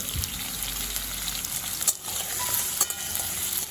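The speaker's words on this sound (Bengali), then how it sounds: "আলুগুলো একটু অল্প করে ভেজে নেব" Cut potatoes fry in a pan of oil and tempered spices over a medium flame, a continuous close sizzle with a few brief scrapes and clinks, no talking.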